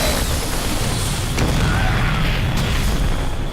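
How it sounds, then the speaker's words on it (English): Siege tank shots in the video game StarCraft 2, a few dull booms and pops buried in a dense, loud wash of battle noise. "Couple tank shots, doesn't lose a roach yet."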